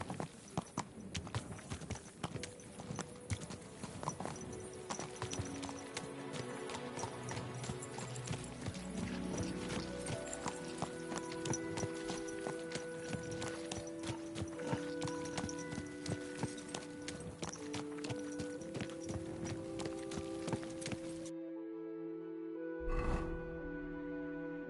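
Rapid hoofbeats clip-clop close by as a horse moves in the medieval video game Kingdom Come Deliverance 2, over a layer of tonal game music, ending abruptly in near silence with a brief late thud.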